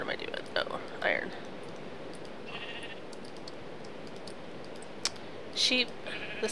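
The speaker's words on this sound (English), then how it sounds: "Oh, there's two sheep." Sheep in a video game bleat in a few short, nasal bursts, spaced apart over a quiet background with faint clicks.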